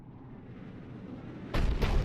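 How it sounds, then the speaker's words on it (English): Cerberus cannon firing in the PC game Mass Effect 3, a sudden heavy boom bursting out of a low rumbling background and followed by a second rolling blast, loud and close. "Looks like Cerberus got that cannon operational"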